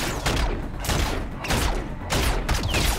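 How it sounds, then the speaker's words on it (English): Heavy gunfire in the video game Call of Duty: Infinite Warfare, with loud overlapping rapid shots and booming impacts, continuous and close throughout. "I was shooting the gun."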